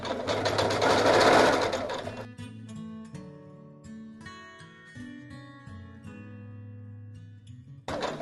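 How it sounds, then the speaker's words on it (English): A sewing machine stitches fabric for a scrap-busting home decor project, running in a loud sustained burst, then slowing into quieter uneven stop-and-start stitching as it backstitches, with a brief restart at the end. "And we're going to stop and backstitch there."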